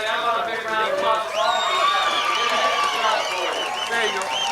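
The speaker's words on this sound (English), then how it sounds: "How about a big round of applause?" Dense crowd of a racetrack audience at a NASCAR late model and super modified night cheers and applauds steadily, a loud continuous wash of clapping and shouting filling the whole moment.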